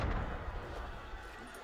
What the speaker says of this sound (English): That was cannon fire.